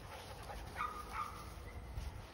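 Sheepadoodle puppies whimper outdoors, a couple of short high whines over a faint background hiss and noise, fairly quiet and with no talking.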